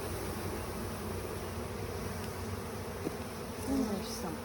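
Honeybees from a package buzz steadily while being installed into a Warre hive, a dense continuous drone with a faint knock partway through and a slight swell near the end.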